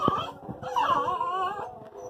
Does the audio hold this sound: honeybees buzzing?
no